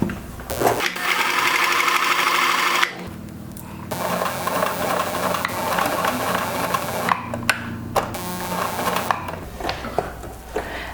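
Sewing machine stitching a dart in fabric, a steady loud mechanical whir running for a few seconds, stopping, then resuming in shorter uneven bursts with small clicks and handling noises.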